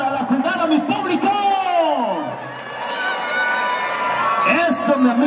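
Spectators at a rodeo plaza in Agua Salada, Alpuyeca, whoop, shout and cheer loudly for a ranch-riding feat, voices rising and falling in a busy roar that dips briefly before swelling again.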